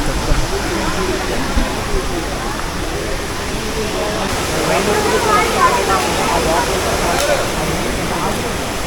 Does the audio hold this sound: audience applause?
no